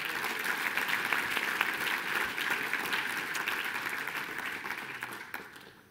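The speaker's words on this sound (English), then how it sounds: "Let's give Katie a big round of applause." A large audience claps steadily in a big hall for a champion salesperson at a business seminar. The applause is dense and sustained, with no voices, then tapers off near the end.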